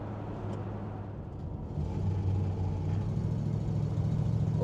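A 1964 Mercury Park Lane convertible's engine rumbles while driving, a steady low drone that swells louder midway as the car picks up speed, with road noise and no talking.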